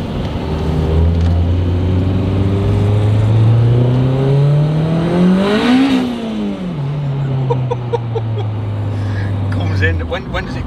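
Up close inside a turbocharged, K-swapped Honda car, the engine climbs steadily in pitch under hard acceleration, peaks and drops, then pulls again, while people talk over the engine noise.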